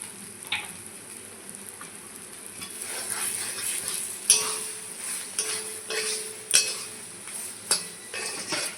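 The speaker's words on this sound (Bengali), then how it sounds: "দিয়ে দিচ্ছি একটু সরিষার তেল। তেল দিয়ে ভালো করে ভেজে নেব।" Taro flower mixture fries in mustard oil with a soft continuous sizzle while a ladle stirs and scrapes the pan, giving sharp metallic clinks at irregular intervals.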